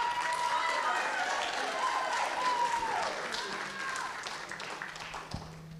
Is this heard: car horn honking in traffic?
no